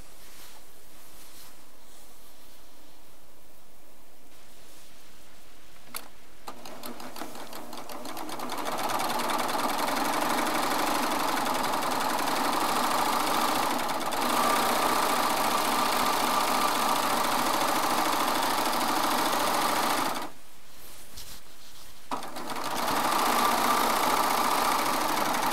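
A Baby Lock serger runs a seam in a long, steady whir, stopping briefly twice before starting up again.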